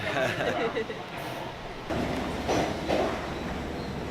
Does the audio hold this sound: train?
yes